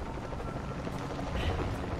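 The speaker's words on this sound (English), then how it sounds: "this bloody helicopter to get in my way." A helicopter in the video game Shadow of the Tomb Raider gives off a steady, low rumbling drone that holds at an even level throughout the clip.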